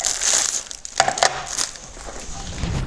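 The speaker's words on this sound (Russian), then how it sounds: "И вот такой пакетик с зип-замочком." Small zip-lock plastic bag holding a black plastic enclosure for an external drive, crinkled and crushed close up in steady bursts of rustling with a few sharper crackles, no talking.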